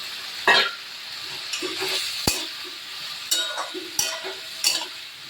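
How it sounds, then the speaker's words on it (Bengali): Lightly boiled vegetables are added to a homemade sambar dal of masoor lentils and stirred in a pot: soft scraping and wet stirring with a few sharp utensil clinks over a faint simmer. "এবার এই হালকা সিদ্ধ করে রাখা সবজিগুলো এর মধ্যে দিয়ে দিলাম"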